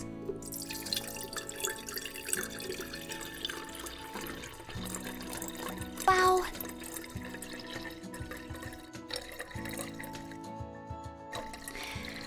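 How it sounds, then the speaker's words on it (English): Tap water runs into a kettle being filled, a steady splashing trickle with some dripping, close and moderately loud. A voice gives a brief exclamation partway through. "Let's fill up the kettle."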